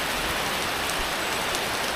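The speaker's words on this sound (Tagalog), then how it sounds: "Ang lakas ng ulan!" Heavy rain pours down in a steady, dense hiss that stays loud and even throughout, with no voices.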